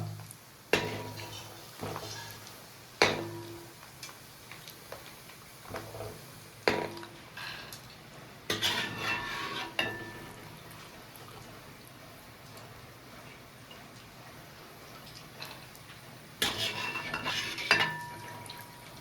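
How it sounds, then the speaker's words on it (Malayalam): Dry rattling and scraping of peanuts stirred in a pan, with sharp clinks of a utensil against metal at irregular intervals, close and moderately loud. "കപ്പലണ്ടി നമുക്ക് വറുത്തെടുക്കാട്ടാ"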